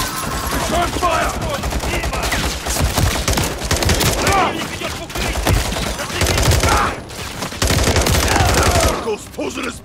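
Sustained automatic gunfire fills a Call of Duty: Modern Warfare III firefight, loud, dense bursts of rapid shots continuing almost without pause, with faint voices underneath.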